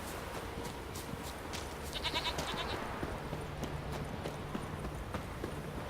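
Goat bleats in The Witcher 3 game, a short nasal bleat cluster standing out near the middle over a busy outdoor mix with hoof-like clopping and scattered clicks.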